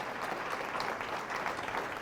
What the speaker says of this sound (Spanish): Fuertes aplausos a nuestro Señor y a la Santísima Virgen María